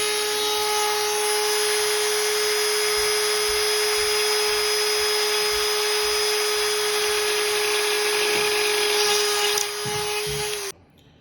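Dremel rotary tool with a bit, set to about 2,000 RPM, gives off a steady, loud, high-pitched whine that holds for about ten seconds before switching off.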